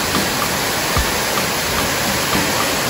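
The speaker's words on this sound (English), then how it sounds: "I can hear it! The waterfall!" A waterfall on Sao Jorge island in the Azores roars in a steady, dense broadband rush, close and loud, with no voices over it for the whole stretch.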